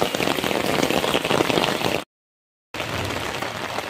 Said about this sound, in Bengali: বৃষ্টি বৃষ্টি বৃষ্টি।